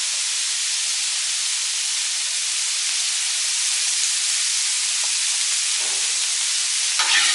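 Meat sizzles with a little oil on a hot 22-inch Blackstone griddle plate, giving a loud, steady hiss of frying that continues unbroken with no talk.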